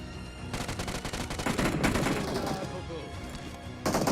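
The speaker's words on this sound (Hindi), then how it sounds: "अब हमें पीछे से भी गोलियां पड़नी शुरू हो जाती है" Rapid volleys of gunfire crackle from behind during a squad battle in a battle-royale shooter game, loud and dense bursts overlapping almost continuously with heavier crashes midway.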